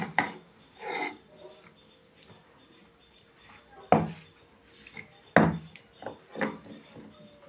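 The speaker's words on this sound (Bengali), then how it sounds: "এগুলো আমি এখন শিলে বেটে নেব" Ginger and garlic crushed on a stone grinding slab, irregular scraping and knocking strokes at close range, some sharp and loud, others soft, with a voice speaking between them.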